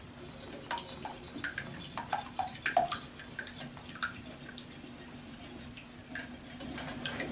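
A whisk clicking and scraping against a bowl as pudding batter with dry ginger is mixed, a quick irregular run of light taps and rattles, fairly faint and close.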